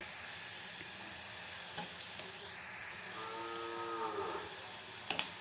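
Turmeric and salt stirred into grated raw mango frying in oil, a faint, continuous sizzle with occasional light scrapes, a brief tonal moan midway, and two sharp clicks near the end.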